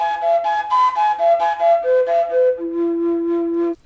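A breathy homemade PVC overtone flute plays a short descending run of pure, whistling notes, tones stepping down and ending on a long held low note, close and clear.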